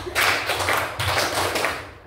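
A primary school class claps together in a counted pattern, a few loud, sharp group claps spaced about half a second apart in a classroom, with children's voices faintly beneath.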